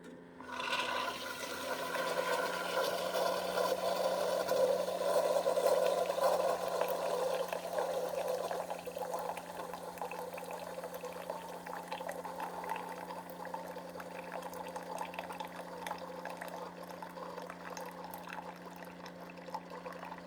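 A Keurig brewer running an 8 ounce brew cycle, a steady hum and gurgling stream of hot water that stays level and close throughout, with no talking.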